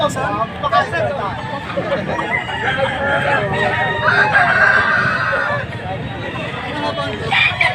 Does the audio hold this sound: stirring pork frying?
no